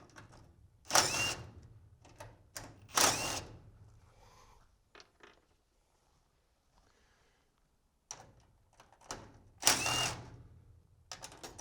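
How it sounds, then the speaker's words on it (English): Needle-nose pliers working a roller off a garage door, with several loud metallic scraping and ratcheting bursts, close by and separated by quiet pauses. "just take the needle nose and you'll pull it off."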